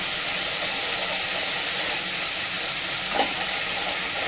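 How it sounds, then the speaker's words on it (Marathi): Ground green chili frying in hot oil for shepu bhaji, a loud, steady, hissing sizzle throughout with a brief stir near the end. "तर आता आपण मिरची टाकून घेऊया तेलामध्ये."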